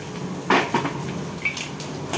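Chopped onion is tipped into a pan for sautéing, with a few clinks and a clatter of pan and utensil, then a light scrape. The sounds are brief and close.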